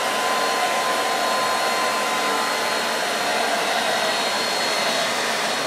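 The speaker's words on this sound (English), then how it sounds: "Shirley's put lots of effort and sweat in with the hairdryer" A hairdryer blows steadily to dry a watercolour painting, an even, close whooshing hum with a faint tonal whine that never changes over several seconds.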